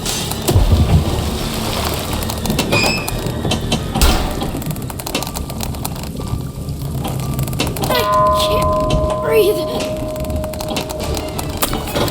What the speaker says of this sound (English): There's a storm hitting us. Brace yourself.